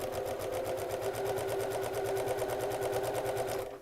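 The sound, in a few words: sewing machine sewing elastic onto fabric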